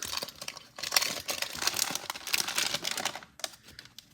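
A 1992 Topps Stadium Club Series 2 baseball card pack is ripped open by hand, its wrapper crinkling and tearing close up in a steady, scratchy rustle that lasts about four seconds, with no talking.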